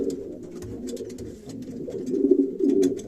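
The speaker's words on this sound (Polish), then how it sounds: "Piękny gołąb." Low, throaty pigeon cooing repeating in soft rolling phrases, close by, with scattered light clicks and rustles.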